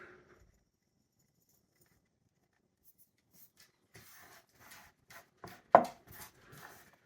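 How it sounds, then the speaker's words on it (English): Spruce tips being chopped with a knife on a board, a quiet run of short irregular cuts that thicken into a cluster of sharper chops with one firm knock. "You can just chop them up, put them straight on your salad"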